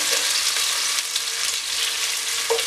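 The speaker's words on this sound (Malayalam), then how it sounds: "സവോള ഇട്ടൊന്ന് ഫ്രൈ ചെയ്തെടുക്കുക" Chopped onion fries in sunflower oil with a loud, dense, continuous sizzle that holds steady throughout, close up and without any voices.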